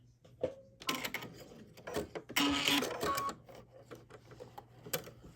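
A Baby Lock Chorus sewing machine stitches out a one-step buttonhole in a quick, busy mechanical run, with a brief louder burst midway and softer whirring passages around it.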